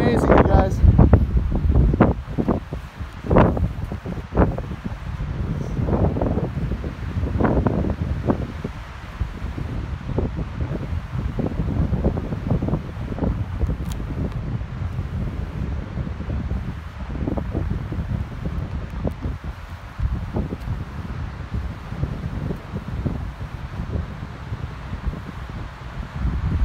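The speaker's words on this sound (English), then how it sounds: "you'll be able to see how fast the wind's blowing" Strong wind gusting at Big Bear Lake, California, ahead of a winter storm, a steady loud roar battering the microphone with buffeting rumbles and rustling throughout.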